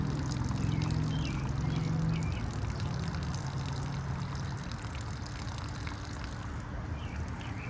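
Water pours and trickles steadily out of the engine of a seized Mighty Mac 8C skid steer, a continuous splashing dribble that stays close and fairly loud throughout with no talking.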